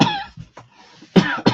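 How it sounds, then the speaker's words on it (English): Several sharp coughs, close and loud, in two bursts separated by a short pause, with no talking. "I'm so sorry about the coughing"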